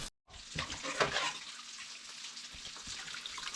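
Water running steadily from a tap while dishes are washed at an off-grid camp, a broad close splashing rush starting after a brief silence and continuing throughout.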